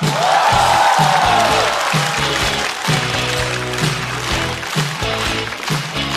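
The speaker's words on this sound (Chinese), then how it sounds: "来，掌声欢迎孙熙" A studio audience at a stand-up comedy show applauds and cheers to welcome a comedian, loud and sustained, with a musical sting and tones playing alongside the clapping.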